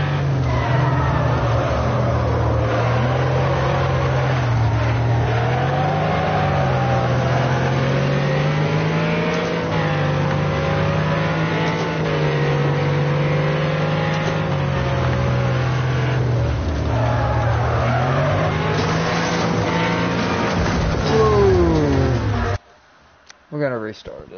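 A race car engine in the Wreckfest video game drones steadily from the in-car view, its pitch rising and falling through gear changes before cutting off abruptly near the end.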